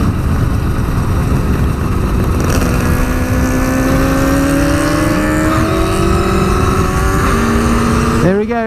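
A Kawasaki 350 Four two-stroke motorcycle riding past, engine note climbing through revs and dropping with gear changes, loud and close against steady wind noise, finishing with a sharp rasping burst.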